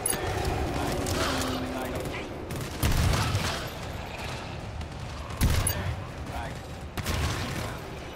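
Gunfire in the co-op shooter video game GTFO, several sharp gunshot bursts spaced a few seconds apart over a low rumbling game ambience, with players talking.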